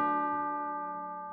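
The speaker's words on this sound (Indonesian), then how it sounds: "Jam 12, dia dengar bel." A single bell struck at twelve o'clock, one clear ringing tone that slowly fades away without further strikes.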